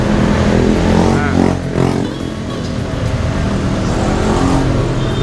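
A Honda Vario 125 scooter engine idles steadily at about 1000 RPM with an upgraded CVT, a loud, continuous near hum throughout, with a person talking over it.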